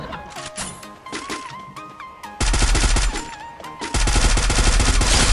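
Trogon gun fire in the shooter game Free Fire comes in loud, rapid automatic bursts that are close and dense, and they grow heavier partway through over faint game tones.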